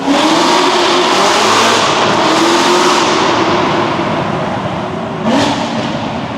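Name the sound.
Corvette ZR1 engine revving during back-to-back power pulls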